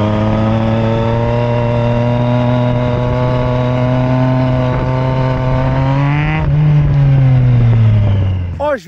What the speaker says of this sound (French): Je prends la moto 3 secondes, je fais 2-3 zigzags